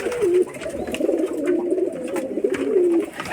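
Pigeons kept for sale cooing close by, a few repeated throaty coos in a soft rolling rhythm.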